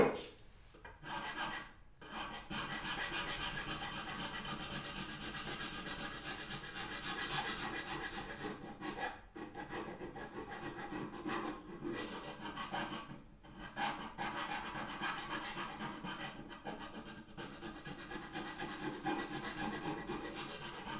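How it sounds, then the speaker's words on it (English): Hand rasping reshapes a wooden backsaw handle, a continuous coarse scraping of steady back-and-forth strokes with a few brief pauses, close and alone. "there's just a few places I need to rasp. Well, let's rasp."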